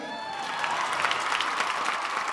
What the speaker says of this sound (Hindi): जोरदार ताली बाजे के चाहिए भाई